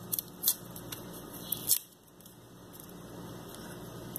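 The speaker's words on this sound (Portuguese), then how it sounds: "eu gosto de amassar bem o alho, não gosto que fique um pedaço no arroz" Garlic being mashed for rice in a home kitchen, a few sharp crunching squishes and taps early on, then a quieter steady background hiss with no talking.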